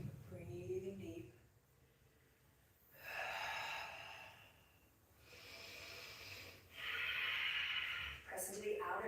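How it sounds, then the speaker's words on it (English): Slow, deep breaths are drawn and released during a yoga flow into warrior poses, with audible airy inhales and exhales that rise and fall in long waves close to the microphone. "Breathing deep."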